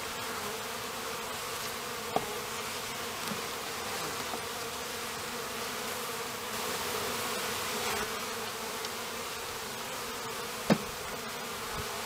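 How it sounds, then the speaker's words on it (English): Honey bees buzzing on a hive frame during a February varroa mite check, a dense continuous drone close by and fairly quiet, with a few small knocks and no talk. "make sure that the frame that we're going to use a sample of bees from does not have the queen on it"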